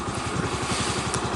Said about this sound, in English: I'm going to do engine braking here just to check it out, and actually the engine braking is very competent.